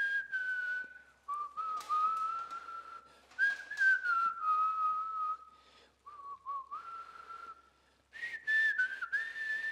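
A person whistles a tune in clear sustained notes, phrase after phrase with brief gaps between, close and fairly soft, with no talk.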